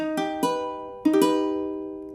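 Keyboard tones forming an augmented chord for an ear training exercise, notes entering one after another in two arpeggiated rounds and left to ring, close and clean with no speech.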